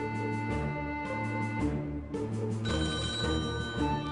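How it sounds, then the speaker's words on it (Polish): A telephone rings on a live call-in radio quiz show, the ring sitting over loud continuous background music that fills the whole stretch. "Jest kolejny telefon."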